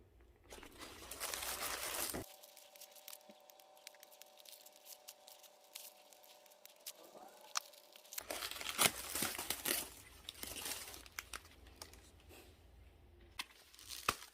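Newspaper wrapped around a hook-spined cactus crinkles and rustles while its roots are trimmed during repotting: close, irregular bursts of crumpling, a quiet gap with a faint steady hum, then more scattered crackling and rustling, no speech.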